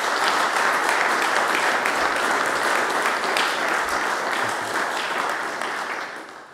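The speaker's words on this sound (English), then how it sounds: "Give them a round of applause, guys." Steady round of applause from an audience at a men's gathering in a church, dense continuous clapping that holds strong and then tapers off at the end.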